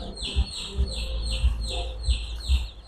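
Chickens calling in a rural vegetable garden, a series of rhythmic, fairly close clucks repeating about every half second, with a low thumping underneath and faint talk now and then.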